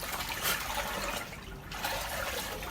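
Water splashing and pouring continuously while something is rinsed in washing for a snail pen, a steady close wash of liquid noise with a brief dip midway and no voices.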